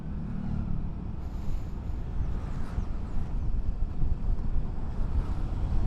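Steady, heavy wind roar buffets a motovlog microphone on a moving motorcycle at speed, a continuous low rumble filling the whole stretch with no voices.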